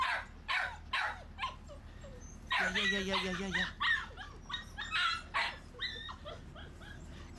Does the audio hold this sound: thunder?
no